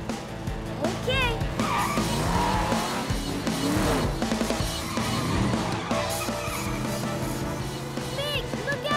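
Cartoon race cars speeding along with revving engines and repeated tire squeals, under a busy mix of music and character voices.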